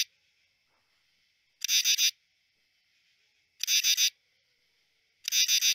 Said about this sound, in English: So that's the sound of one male singing.